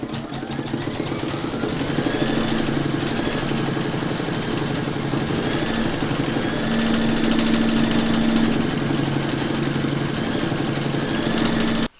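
An embroidery machine stitching the poppy quilting in the middle of an Anzac poppy mug rug, a loud, steady mechanical hum and rapid needle chatter running unbroken for the whole stretch before stopping abruptly.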